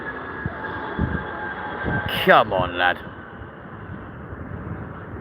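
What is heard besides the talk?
Vueling airliner passing at Heathrow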